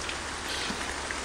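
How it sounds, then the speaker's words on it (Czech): Moderate rain patters steadily in the OMSI 2 bus simulator, a soft, even hiss of drops on surfaces with no voices. "A počasí jsem si zvolil takový déšť střední"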